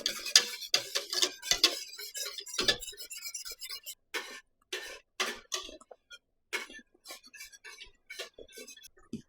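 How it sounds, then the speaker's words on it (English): A spoon scraping and clicking against a pot while stirring thick coconut pie filling on the stove, with irregular close taps and scrapes separated by brief pauses. "You don't want to quit stirring it because it'll burn."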